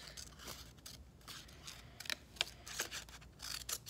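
Scissors snip through paper while cutting out homemade stickers, producing a quiet series of crisp, irregular crunchy cuts at close range with no talking.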